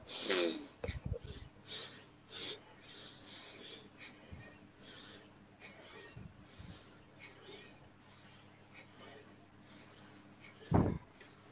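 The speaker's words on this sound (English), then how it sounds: "this is a very simple business of breathing in and breathing out rapidly for about 5 counts" Quick, forceful breaths in and out through the nose during a pranayama class, as in Nadi Shuddhi breathing practice, sounding as a series of airy huffs and sniffs of uneven strength, with a louder snort-like burst near the end.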